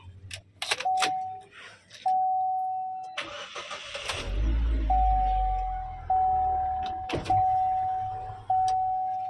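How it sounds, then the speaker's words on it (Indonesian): A Chevrolet car's engine cranks and starts, then settles into a steady idle, with several sharp electronic dings chiming at intervals over the running engine. "Oke, coba kita nyalakan mesinnya ya"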